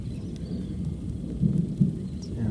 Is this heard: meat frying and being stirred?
no